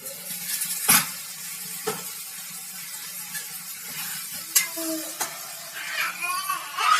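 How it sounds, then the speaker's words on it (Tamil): A pan of egg curry bubbling and sizzling steadily at close range, with occasional soft pops and clinks over a continuous hiss. "நல்லா கொதிச்சிருச்சு"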